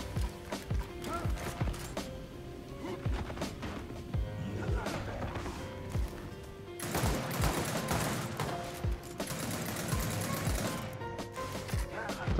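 Pistol fire in the Gears of War 4 game, with bursts of sharp repeated shots and metallic mechanical clatter across a busy match, and faint voices now and then underneath.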